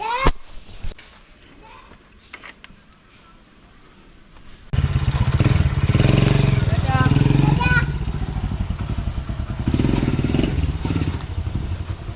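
A motorcycle engine starts up partway through and runs steadily with a loud, buzzing rumble, while a voice talks over it.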